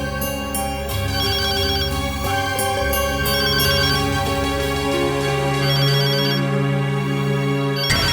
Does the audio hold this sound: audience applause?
no